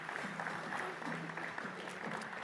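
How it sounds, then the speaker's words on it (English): An audience at a sustainability challenge demo day applauds the chief judge, moderate continuous clapping with a faint murmur of voices beneath it. "A warm round of applause."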